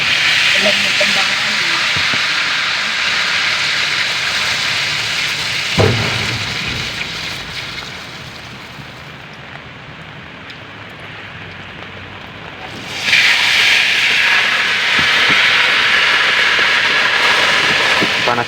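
Food frying in very hot oil gives a loud, steady sizzle that eases for a few seconds midway, then surges back to full strength.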